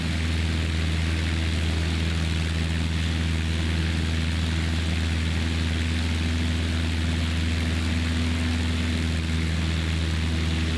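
A propeller aircraft engine in a flight simulator game drones at a constant, steady pitch, an unbroken loud hum with no change in rhythm and no voices over it.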